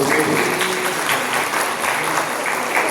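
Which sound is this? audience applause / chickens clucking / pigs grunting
audience applause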